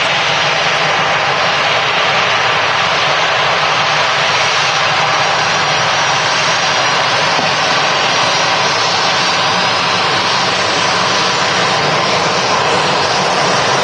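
Lufthansa Star Alliance airliner at Manchester Airport, its jet engines producing a loud, sustained broadband roar that stays steady and near throughout, with no voices.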